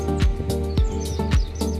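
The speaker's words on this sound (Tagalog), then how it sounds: "Dito talaga maraming ibon." Many birds in a park give repeated sharp, bright chirps at a steady pace, clear and fairly near, with no voices.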